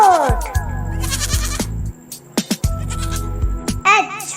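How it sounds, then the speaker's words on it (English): A goat bleats in a children's alphabet song, with a wavering bleat at the start and another near the end, set against bouncy, repetitive music. "G for goat."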